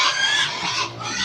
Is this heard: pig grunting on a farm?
yes